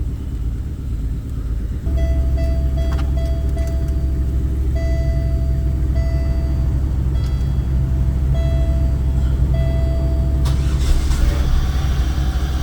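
After a brief quiet moment, a coupe's engine catches quickly and settles into a steady, close, rumbling idle with a faint whine on top, running alone.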